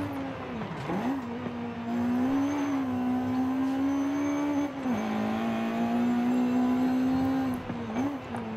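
A B16-swapped Honda CRX revs hard in Forza Horizon 5 on a volcano road, a loud steady engine note climbing and dipping between gear changes, close and alone.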